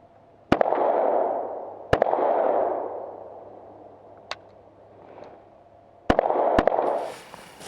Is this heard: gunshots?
yes